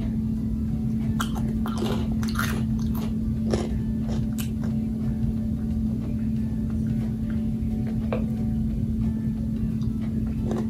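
Crunchy off-brand cereal being chewed close up, irregular crisp bites and crunches scattered over a steady low background hum.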